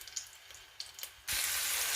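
Seasoning hitting hot oil in a pan bursts into a loud, steady sizzle after a few faint clicks and rustles, continuing alone to the end.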